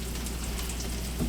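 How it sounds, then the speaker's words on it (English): Flour-dredged onion rounds fry in a skillet, giving a dense, steady sizzle and crackle that stays loud and close throughout the short moment. "So I'm frying them off in the skillet while I'm waiting on this burger to cook."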